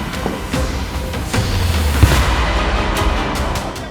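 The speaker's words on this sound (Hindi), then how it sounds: "आप आवाज सुन सकते हैं कितनी हेफ्टी फायरिंग हो रही है यहाँ पे टीयर गैस शेलिंग की।" Police fire tear gas shells at a farmers' border protest, with several sharp distant bangs and booms scattered over a continuous rumbling crowd and outdoor din.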